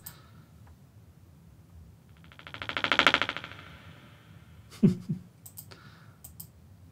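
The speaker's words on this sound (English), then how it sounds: "Whoosh bangs are always appealing." Serum Icara synth preset whoosh bang: a rising synthetic whoosh that swells and peaks, then cuts off, followed by a sharp bang and a few short trailing hits, alone and close.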